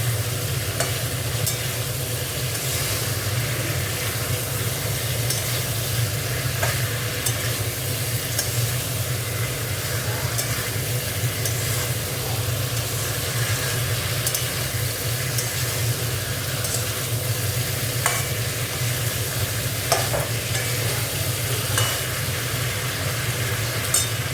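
Cauliflower is stir-fried in a pan, a steady, close frying sizzle with faint scraping from stirring that continues evenly for the whole stretch without any talk.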